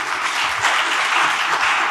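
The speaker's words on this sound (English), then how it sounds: "This applause has to be a little louder, guys." Audience applause in a conference hall at an India–West Asia dialogue event, dense and steady throughout, loud and close with no speech over it.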